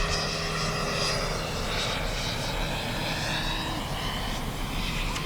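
A 90mm FW Eurofighter RC jet comes in to land with its gear down, a steady loud roaring whine of the ducted fan close by and unbroken throughout.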